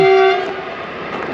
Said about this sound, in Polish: O, pociąg.